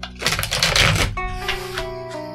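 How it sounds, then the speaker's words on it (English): A deck of tarot cards is riffled and shuffled close by, giving a dense papery flutter that trails off into a sustained ringing tone from elsewhere in the room. "Now I have to reshuffle. Okay, continuing on, shuffling,"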